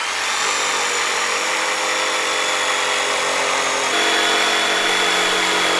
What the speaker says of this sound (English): to do the cutting, I'm going to use my jigsaw